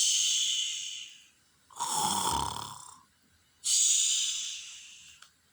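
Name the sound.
snoring sound imitated by a storyteller for Bear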